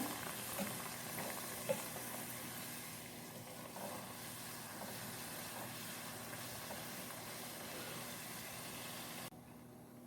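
Pizza puff frying in hot oil, a faint, steady sizzle running unbroken throughout with a soft low hum underneath.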